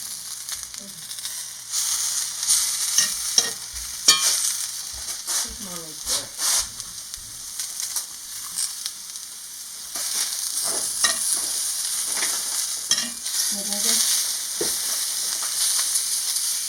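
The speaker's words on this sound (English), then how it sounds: "what I love about cooking these mushrooms in the cast iron is that they get this nice char on them" Mushrooms frying in a cast iron pan give a steady hiss and crackle, broken by stirring scrapes and clatters, while a voice talks now and then.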